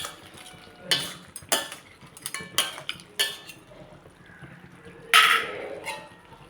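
Cleaned crab goes into a pan for crab poriyal and is stirred, producing scattered clattering scrapes of utensil against pan and one louder clank near the end, with no talk.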